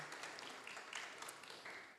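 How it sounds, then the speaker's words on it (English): A conference audience applauds its three keynote speakers with a steady, faint wash of clapping heard from a distance, continuous across the whole moment with no voices on top. "once more please give applause to all the three keynote speakers"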